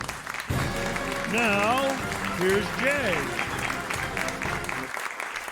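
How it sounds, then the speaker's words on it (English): A studio audience at a talk radio show in Phoenix claps in a broad, steady wash of applause while someone speaks over it, the clapping fading out at the end. "the applause is for my guest, Sheriff Joe Arpaio"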